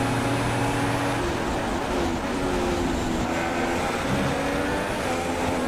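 An F1 car engine drones steadily in F1 2016 during practice and qualifying in Australia. The continuous mechanical hum shifts slowly in pitch, with no speech over it.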